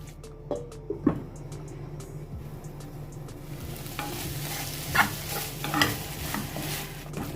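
Tomatoes sauté in a pan for a Kerala egg roast, giving a steady close sizzle with occasional utensil scrapes and clinks. No one speaks.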